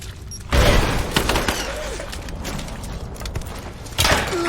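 Gunfire in Rise of the Tomb Raider, with a sharp loud blast at the start and another near the end and scattered cracks and thuds between them, all fairly close.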